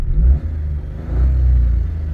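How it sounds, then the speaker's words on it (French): A 2024 Suzuki Swift hybrid engine idles with a deep low rumble, dips briefly, then swells in a short throttle blip that holds at a slightly higher, steady drone, close and alone without talk. "je vais mettre un petit coup de gaz pour voir."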